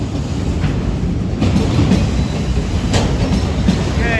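A heavy freight train rumbles steadily past up close through a grade crossing, a continuous low roar with faint rail clatter and occasional metallic squeals throughout.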